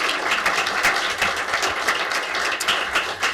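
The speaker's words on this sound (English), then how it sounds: "please now join me for a round of applause and thanking our candidates" A crowd at a Plymouth City Council and Hennepin County candidate forum applauds the candidates, producing a full, continuous wash of clapping throughout.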